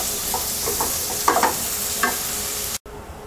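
Fried vegetables being lifted from a frying pan, a steady hiss of hot oil with a few brief scraping clatters of the utensil, close and alone before a sudden cut.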